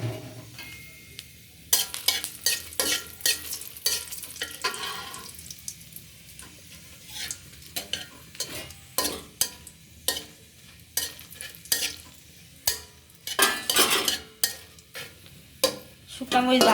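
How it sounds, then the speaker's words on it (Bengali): Dried red chillies fry in hot oil in a wok, a crackling sizzle broken by sharp stirring and scraping strokes at an irregular rhythm. The sounds are close, with no talking. "শুকনা মরিচ দিলাম,"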